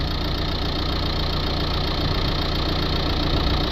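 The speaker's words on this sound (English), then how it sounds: "Now I'm going to start the engine up" A Nissan NV200 van with a blocked turbine pressure sensor hose idles just after start-up, giving a steady, continuous engine drone with an even, unbroken rumble close by and no talking.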